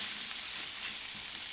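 Potatoes frying in butter in a pan, a brief, steady hissing sizzle at moderate volume with no talking.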